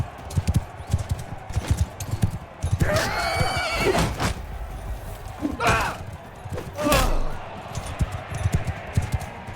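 Horse neighs and hooves clip-clopping during a battle in the video game Mount & Blade 2: Bannerlord, with a loud whinny near the middle and sharper bursts afterward over a steady bed of game noise.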